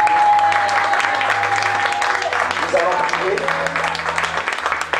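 A church congregation applauds and cheers for the Lord, loud sustained clapping from a crowd filling the room throughout, with voices and a held musical tone underneath.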